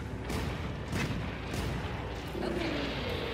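In the video game Monster Hunter World, a Dragonator siege weapon fires with heavy booming blasts and rumbling impacts, layered with battle noise and a short whistling tone near the end.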